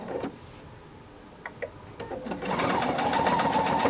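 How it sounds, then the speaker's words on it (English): A Pfaff sewing machine fitted with a binder attachment sews binding. A few quiet clicks lead into a steady, fast mechanical whir that starts about halfway through and keeps going. "I'm going to go ahead and put that in there, and I'm going to keep sewing."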